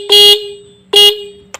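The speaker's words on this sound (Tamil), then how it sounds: "இப்போ நான் வந்து ஹார்ன் அடிக்கிற பாருங்கள்" A Pulsar motorbike horn under repair and tuning blares in two long, loud blasts, followed by a brief faint toot at the end.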